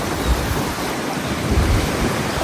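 Sea waves at a seaside resort roll in a steady, close roar of surf, mixed with blustery wind buffeting the microphone and no voices.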